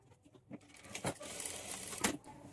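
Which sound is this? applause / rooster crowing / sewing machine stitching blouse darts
sewing machine stitching blouse darts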